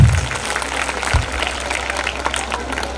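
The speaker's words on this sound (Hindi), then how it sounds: "तो एक बार जोरदार ताली भाई मोनेश के लिए भी बजाइए।" Loud, dense applause for a young performer named Monesh at a Rumpy Dumpy Academy children's event in Kukshi, sustained clapping from a large audience throughout, with no talk over it.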